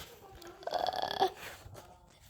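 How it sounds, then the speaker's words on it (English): A single drawn-out burp sounds at the dinner table, a croaky, voiced belch lasting under a second that rises above a quiet room and then trails off. "David's burping at the table."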